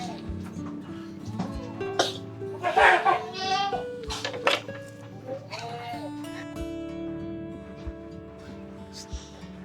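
Goats in a pen of about fifty bleat several times, loud wavering cries clustered near the middle, with people talking and some background voices around them.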